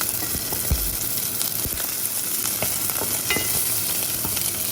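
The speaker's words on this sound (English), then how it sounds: "Today we're just going to do a quick zucchini stir fry." Zucchini and beef trimmings sizzle steadily in a hot stir-fry pan, a continuous close frying hiss dotted with small pops and crackles.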